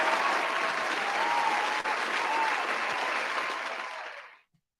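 Applause from a crowd for Baron Corbin, a dense steady wash of clapping that holds for about four seconds and then quickly fades out.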